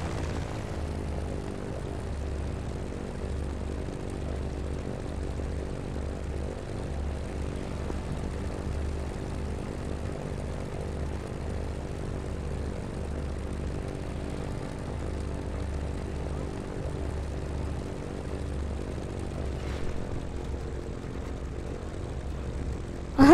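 Steady propeller airplane engine drone from the Just Cause 3 video game, a continuous close hum with a layered, even tone that holds unchanged for over twenty seconds with no talk over it.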